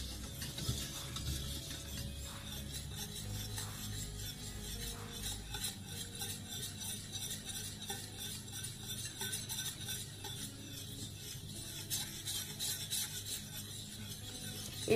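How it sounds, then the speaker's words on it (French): A steady, continuous scraping and rubbing as a utensil stirs sauce in a saucepan, with a low hum underneath for the first few seconds. "on lâche pas la casserole. Hein. On remue tout le temps,"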